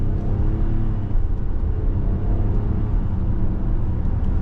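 A 2025 Nissan Pathfinder SL 4x4 SUV pulls up to speed on a road, a steady, loud low engine and road rumble droning throughout with no clear change in pitch.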